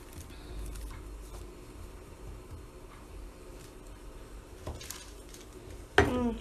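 Fondant-coated seed candies are sliced on a kitchen surface, giving soft, quiet scrapes and faint clinks, then a sharper knock of the knife near the end.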